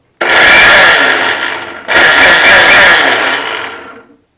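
An electric kitchen mixer grinder coarsely grinding peanuts into powder, running in two loud, steady whirring bursts with a short pause between, then winding down.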